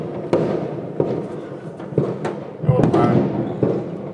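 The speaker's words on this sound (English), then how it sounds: "this is where most of the illegal fireworks usually happens" Fireworks and firecrackers bang repeatedly on New Year's Eve near a house, sharp loud reports every second or so with a denser crackling burst midway, with faint voices underneath.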